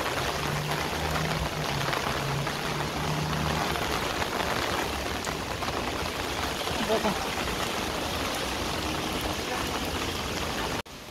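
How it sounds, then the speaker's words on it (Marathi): Heavy rain pours down while water rushes along the ground and wind gusts, a loud continuous wash of noise, with a person talking over it briefly. "पाणी कसं वाहत आहे बघा, पाणी पाणी पाऊस."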